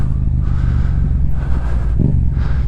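A Yamaha MT-07 motorcycle engine runs and revs close up, a deep rumbling throb with slight surges in pitch, no talking.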